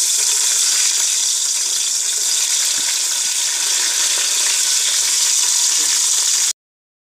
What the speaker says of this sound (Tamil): இப்போ வந்து இதை நல்லா வதக்கிக்கோங்க.